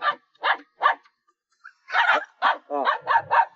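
A fierce black Chinese rural dog (Zhonghua tianyuan quan) barks in a series of sharp, close barks: three spaced yelps, a pause, then a faster burst of five or six louder barks with a low growl.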